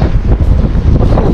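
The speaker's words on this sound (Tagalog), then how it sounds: "Grabe, lakas na po ng hangin." Strong wind roars and buffets against the microphone during night fishing by the water in Taiwan. The gusting rumble is loud and close, with no speech.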